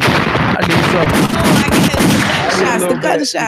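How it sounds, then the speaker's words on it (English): A gunshot sound effect plays over a studio radio broadcast. It is a loud, dense barrage of gunfire and blasts that fills the whole clip, with a voice faintly mixed in. "Gunshot."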